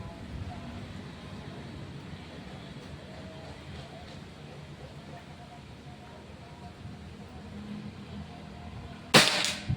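A single sharp crack from a Predator Pajero Gun Gen 6 air rifle firing a conventional or Hercules pellet arrives near the end, after a long stretch of quiet outdoor background with soft wind rumble.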